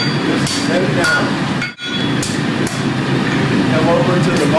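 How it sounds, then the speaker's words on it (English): A blacksmith's hammer strikes hot steel while shaping wolf jaw tongs, sharp metallic blows ringing in steady succession amid a noisy forge, with a brief pause partway through. "round side of the hammer, just set it down"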